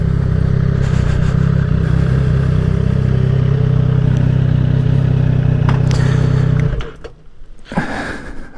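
A 2020 Triumph Street Triple 765 RS motorcycle ridden on wet roads gives a loud, steady engine drone with road and wind roar for about seven seconds, then drops away to quieter clatter and handling noises.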